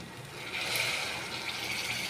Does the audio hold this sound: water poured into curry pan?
yes